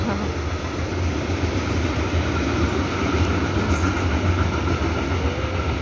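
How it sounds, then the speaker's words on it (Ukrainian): A train rumbles steadily over a tunnel on a forested riverside bike route near Leverkusen, a constant loud rolling roar with no break and no speech. "Зараз такі тунелі, над ним їздить потяг."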